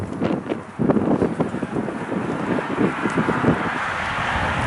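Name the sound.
wind noise on microphone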